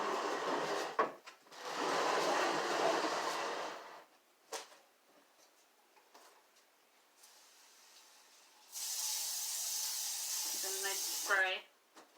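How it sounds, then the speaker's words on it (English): A spray bottle of cleaner mists the front of a TV stand in two long, close hissing bursts separated by quiet rustling, with a brief voice near the end. "I'm spraying the front of my TV stand that my phone is on."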